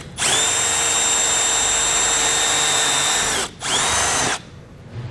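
A power drill whines steadily while drilling out a rivet on a 2019 Jeep Grand Cherokee during a base plate install, running loud and close for about three seconds, briefly stopping, then spinning again before cutting off.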